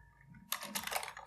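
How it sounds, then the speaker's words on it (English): Quick keyboard typing at a computer starts halfway through, a dense run of soft, close clicks following a quiet moment of low hum. "we can open the help menu of other command by simply typing help in the command name"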